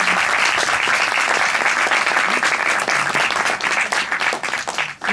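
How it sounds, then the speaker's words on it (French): Audience applause at a conference discussion on Black women and natural hair, a dense, sustained burst of many hands clapping close by that tapers slightly toward the end. "Merci pour les applaudissements."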